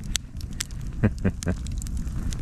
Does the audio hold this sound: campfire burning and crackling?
yes